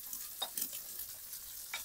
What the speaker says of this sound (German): Schön mit dem Fett werden die Zwiebeln jetzt schön durchgebraten.